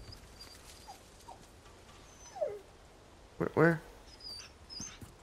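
A puppy whimpers in Resident Evil 4 Remake, a few short high whines rising near the end, fairly close, with a voice speaking briefly over the dark ambient game sound.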